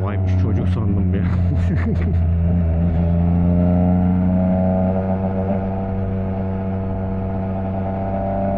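A Yamaha MT-09 motorcycle's exhaust while riding, heard up close as a loud, continuous engine drone whose pitch climbs and holds steady throughout.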